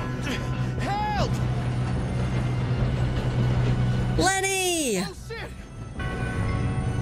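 A train rolls along its rails in the Red Dead Redemption 2 video game, a steady low rumble running through the whole clip. People shout and talk over it, and there are sharp yelling bursts near the start and middle.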